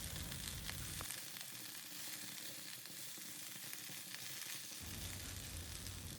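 Bok choy stir-frying in a pan over medium heat, a soft continuous sizzle with faint stirring rustles, quiet and close, with no speech.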